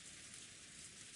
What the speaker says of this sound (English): it must be the sound of rain